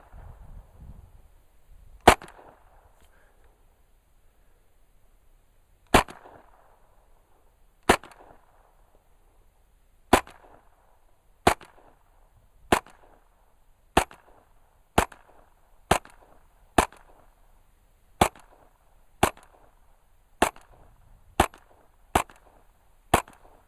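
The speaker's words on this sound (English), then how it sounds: "Safety off, fire in the hole. Little to no recoil there." Thompson 1927 A1 Tommy Gun firing single shots, about seventeen sharp loud cracks, spaced a few seconds apart at first and then coming at a faster steady rhythm, each with a short echo.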